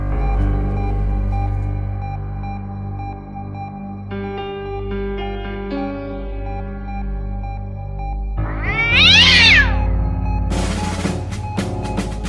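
A cat meows loudly and repeatedly over a humming, music-like background, its cries rising into a strained caterwaul near the end, followed by a burst of scrambling noise.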